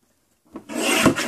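A short, close rasping scrape as scrapbook paper is trimmed, starting after a moment of silence and rising into a rough, brushy cut that lasts under a second.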